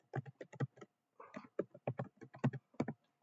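Rapid keystrokes on a computer keyboard while entering a spreadsheet item, a close, steady run of clicks that pauses briefly midway and then resumes until it stops.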